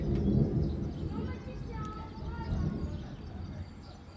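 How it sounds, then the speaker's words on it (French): Thunder rumbles low and steady through a strong storm, a continuous deep roll that swells and fades over several seconds, with faint bird calls and light background noise. "je sais pas si vous entendez des coups de tonnerre, écoutez"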